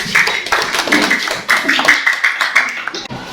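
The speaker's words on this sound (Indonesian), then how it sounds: "Kasih aplaus untuk kelompok 1." A classroom of students applauds a presentation group with a dense burst of overlapping claps and taps, steady and close for a few seconds before tapering off.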